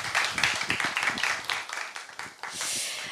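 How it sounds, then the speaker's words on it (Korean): A book-talk audience gives a brief round of applause with uneven, distinct claps over about three seconds. The clapping thins into a softer wash at the end. "박수 부탁드립니다."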